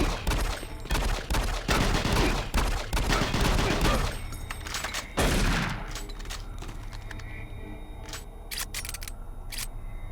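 Pistol gunfire from DOOM 3: a dense burst of loud, sharp shots in the first half, then sparser isolated cracks against a low rumbling background hum.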